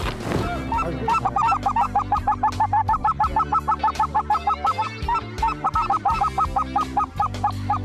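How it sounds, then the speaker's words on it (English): A large flock of Canada geese, some 500 or 600 birds, honks overhead during a waterfowl hunt, a dense, steady chorus of loud repeated honks with a low rumble beneath and little talk. "At any given time, there's 500 or 600 birds right on top of us"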